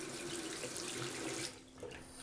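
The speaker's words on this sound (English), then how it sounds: "Water is definitely flowing through that filter very easily, with actually quite a bit of pressure" Tap water runs strongly through a Sawyer SP134 tap filter into a sink, a steady pressured splashing that briefly drops in level before resuming, with no talking.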